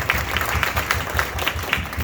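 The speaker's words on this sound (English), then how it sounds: "I think we need to give a round of applause to all the ladies and gents who helped out for this breakfast." An audience at a town hall breakfast gathering gives a round of applause, a dense, steady wash of many hands clapping at once that carries on without pause.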